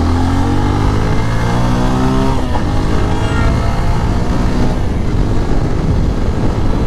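Engine of a 2022 Bajaj Pulsar 125 BS6 split-seat motorcycle, freshly serviced, revving and pulling hard while ridden, with a loud steady drone that climbs in pitch and wind noise close by.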